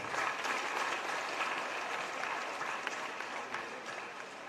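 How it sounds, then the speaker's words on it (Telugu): Audience clapping welcomes Gaddar at a women's skill development certificate distribution event, a continuous, even wash of many hands heard from a distance and fairly faint throughout. "గద్దర్ గారికి అందరూ సార్ చప్పట్లతో స్వాగతం పడదు."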